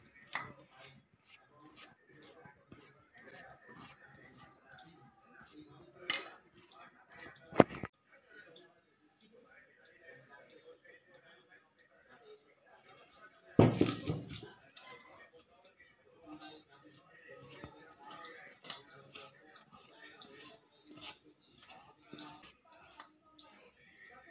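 Flour is mixed with red salt, sugar and half a spoon of baking soda in a bowl for laccha paratha dough. Scattered light clicks, taps and scrapes continue throughout, with two sharper knocks standing out.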